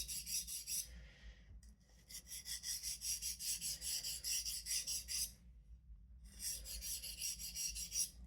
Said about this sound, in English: let's try some light deburring